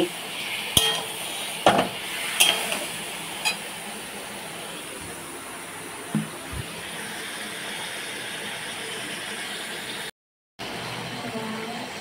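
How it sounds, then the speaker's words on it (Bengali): Meat sautéing in oil in a pan with no ground spices, a steady low sizzle running throughout, broken early on by a few sharp clinks of a spoon stirring against the metal. "বসিয়ে দিয়েছি, মাংসটা এবার কষাবো।"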